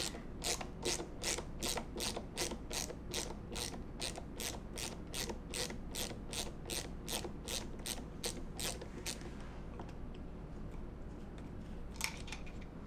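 A T-handle ratchet screwdriver clicks rapidly and evenly, its dense run of sharp pawl ticks going on for about nine seconds before stopping, with one last faint click near the end; nobody speaks.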